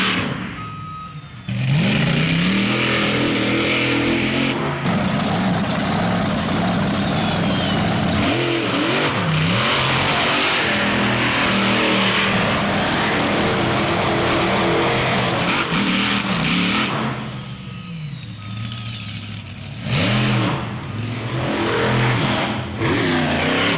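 A monster truck engine revs hard and roars as it drives around state fair showgrounds, loud and sustained with surging pitch changes and brief lulls.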